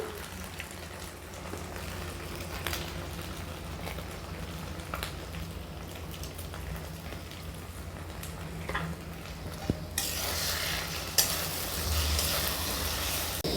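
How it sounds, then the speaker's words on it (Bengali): Eggs fry in a pan with onion, tomato, garlic and a little salt, giving a steady, faint, hissing sizzle that runs throughout with soft scraping and a few small clicks, and no one speaking. "ডিমটা পেঁয়াজ টমেটো আর রসুনের সাথে ভালোভাবে ভেজে নেব"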